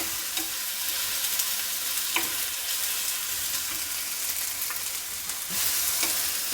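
Green chillies stir-roasted in a pan for Kolhapuri thecha, a steady sizzle and crackle with repeated light scraping of the spatula against the pan, close and continuous without talk.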